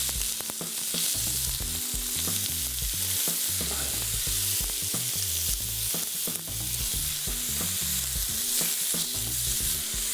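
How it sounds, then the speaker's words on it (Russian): Pork pieces sizzle and fry in a pan alongside potatoes for an ojakhuri dish, a steady loud crackle with occasional stirring scrapes throughout, no voices. "Вот теперь мы кладем свинину."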